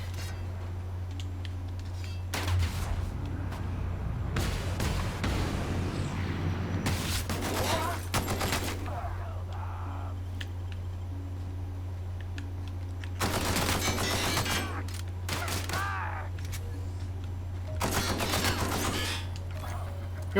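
Light machine gun fire in the video game The Outer Worlds comes in several loud rapid bursts over a steady low electronic hum, separated by quieter gaps.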